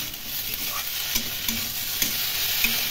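Mixed vegetables for a Bengali small-fish curry are stirred and fried in a pan: a continuous sizzle close by, broken by a few sharp spatula scrapes and knocks against the pan.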